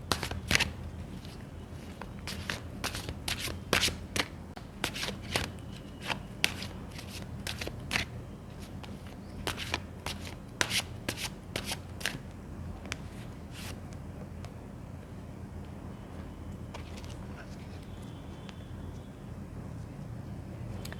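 A deck of tarot cards is shuffled close by in quick repeated riffling bursts, each a crisp flutter of card edges. The shuffling is busy at first and thins out toward the end, with no speech.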